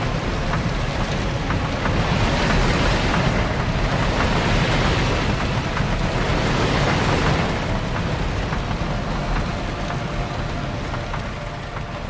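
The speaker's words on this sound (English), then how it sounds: "Love these waterfalls." Waterfalls in the Planet Coaster video game roar as a dense, steady broadband rush of falling water, loud and continuous throughout, fading slightly toward the end, with no talking over it.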